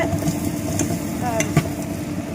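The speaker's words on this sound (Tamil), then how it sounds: "இஞ்சி பூண்டு பேஸ்ட்டு வதங்கிடுச்சு." Ginger garlic paste sautés in a pan with onions, giving a steady low sizzle with a few faint scrapes and clinks, and there is no talk.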